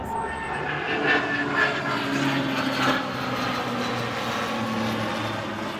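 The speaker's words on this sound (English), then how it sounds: "Pretty red airplane." A red propeller airplane passes overhead, a steady droning engine hum with a broad rushing wash that holds fairly loud and even throughout, with no voices.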